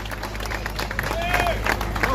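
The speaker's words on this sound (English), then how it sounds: "Please give him a round of applause" A rally crowd claps and cheers for the next speaker at a Save the Children event, a dense close wash of applause with whistles and voices mixed through it.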